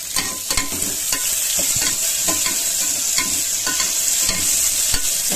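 Sliced onion frying in a pan, a loud constant sizzle with regular scraping strokes of a spatula, close and with no voices.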